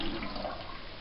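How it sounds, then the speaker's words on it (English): Excess water poured from a bucket, a brief close whooshing rush of splashing liquid that holds steady for about a second. "Then I grab the bucket and pour some of the excess water in it."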